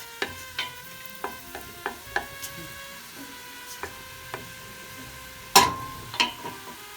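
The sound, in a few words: onion sautéing in olive oil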